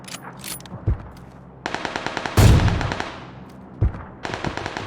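A video game weapon fires in training mode during bullet-drop practice: sharp single shots followed by rapid automatic bursts and a heavy booming blast, loud and close.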